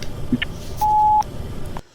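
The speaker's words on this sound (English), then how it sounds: "Please leave your message after the beep." A single steady electronic beep, clear and mid-pitched, holding for about half a second against faint background hiss before cutting off.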